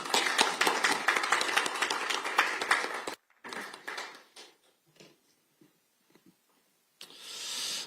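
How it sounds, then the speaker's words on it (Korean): Audience applause at a Korean political debate forum, a dense burst of clapping for about three seconds that breaks off, followed by scattered taps and brief sounds before another short swell of clapping near the end. "큰 박수 부탁드립니다."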